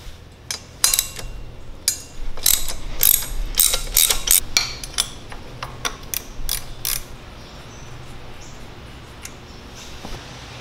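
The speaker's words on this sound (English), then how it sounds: "I have a ratcheting wrench that we're going to use on the other side since there's minimal clearance there between the frame." A ratcheting wrench loosens the exhaust header nuts on a Kawasaki KLX140 motorcycle in tight clearance by the frame, giving close, crisp bursts of rapid clicking that stop and start, then fade into a quiet room.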